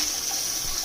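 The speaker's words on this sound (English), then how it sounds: "so the water start coming into the bidet" Water rushes through a handheld bidet sprayer in a bathroom, a steady hissing spray with a sustained high-pitched whine, constant and close with no pauses.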